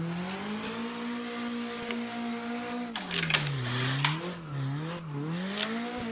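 A car on the Okuibuki road holding a steady engine tone, then downshifting into second gear, with the pitch rising and falling as revs change and a brief burst of tire or road noise, heard from inside.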